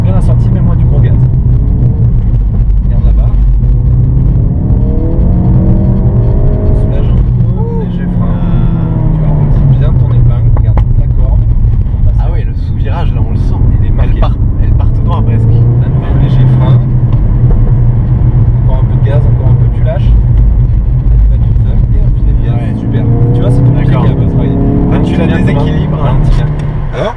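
Ford Focus RS Pack Performance engine pulling hard during a drift in second gear, a loud deep drone that rises and falls, with someone speaking French over it in the cabin.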